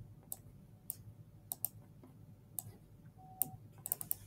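Someone types on a computer keyboard, giving sparse, crisp key clicks spread irregularly over a few seconds in a quiet room, with a short burst of quick taps at the end.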